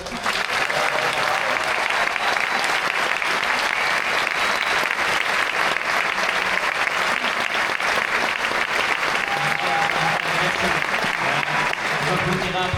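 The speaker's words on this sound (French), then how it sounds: "Applaudissez-vous un peu là" A cinema audience in Paris breaks into sustained, dense applause that holds steady and loud for over twelve seconds, with some voices mixed in under the clapping.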